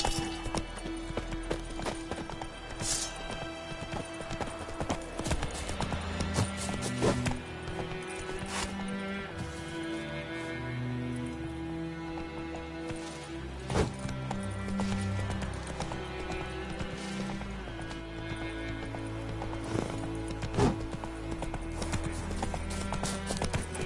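Hooves of Roach, a horse in The Witcher 3, clip-clop steadily at a gallop, a continuous rhythmic pounding beneath a dense game soundtrack of music and ambient effects, with an occasional neigh.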